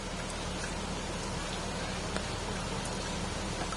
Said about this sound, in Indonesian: Masih hujan terus lagi kawan.